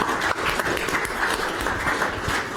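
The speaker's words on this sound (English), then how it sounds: "So just a round of applause for the panel" Steady round of applause from the audience at an Australian cyber industry event panel, dense clapping close and continuous throughout, no talking over it.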